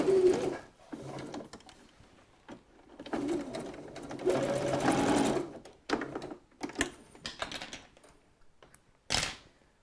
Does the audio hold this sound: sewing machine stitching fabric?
yes